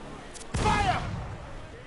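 Ship cannons firing in the naval combat of Assassin's Creed Freedom Cry: a brief faint pop, then a loud booming blast that rings out and decays over a second amid a shouted command and game ambience.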